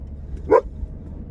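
A dog lets out a single short bark, fairly close and loud, over a low steady background hum.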